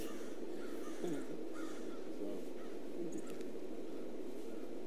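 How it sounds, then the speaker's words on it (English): Crows caw repeatedly in harsh, scratchy calls while mobbing near Clark Hall, somewhat distant, over a steady noisy background. "The crows are back."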